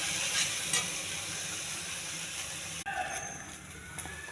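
Ginger garlic paste frying with onions in a pan, a loud continuous sizzle and hiss up close that drops back slightly partway through before carrying on more quietly.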